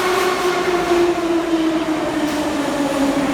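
A metro train runs steadily through Admiralteyskaya, a very deep underground station in Saint Petersburg, with a loud continuous rumble and a sustained droning whine filling the space, close and unbroken throughout.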